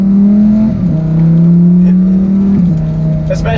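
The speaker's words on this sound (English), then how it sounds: "I have it in sport right now just because we love burbles, and it obviously burbles a little less than Corsa" A Lamborghini Huracan Evo engine in sport mode drones loudly and steadily from inside the car, its low note shifting pitch slightly as the revs change, with a brief lower burble near the end.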